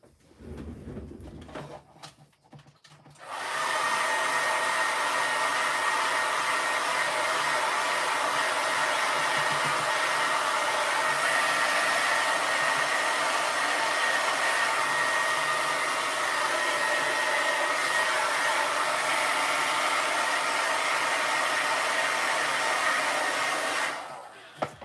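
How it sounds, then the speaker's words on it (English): After a brief quiet moment, a hair dryer switches on and blows steadily and loudly for about twenty seconds before cutting off. "dry this real quick with my hairdryer"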